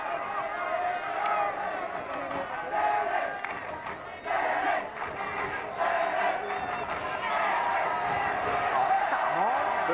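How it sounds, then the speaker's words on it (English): A rugby crowd at the 1983 Waratah Shield schoolboy grand final between Matraville and St Stanislaus roars and cheers wildly, a loud surging din of shouting voices that swells and dips, with commentary over it. "Stenny crowd going wild."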